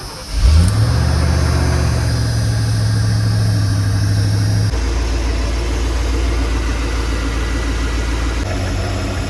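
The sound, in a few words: car engine starting and idling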